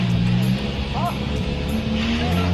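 A pricey Aston Martin car surges hard with a loud, sustained engine roar and a brief tire chirp, the sound steady and close throughout.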